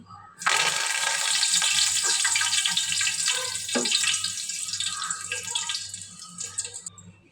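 Loud, dense sizzling and crackling of mushrooms frying in hot oil begins abruptly and continues steadily, easing slightly toward the end.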